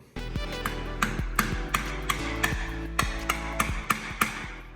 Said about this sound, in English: You wanna take the hammer and you wanna bam a hole in it.